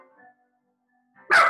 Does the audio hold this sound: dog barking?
yes